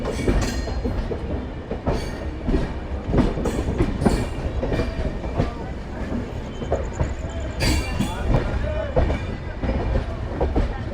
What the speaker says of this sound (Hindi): ये ट्रेन अमृतसर से प्रतिदिन बांद्रा टर्मिनल बॉम्बे के लिए निकलती है।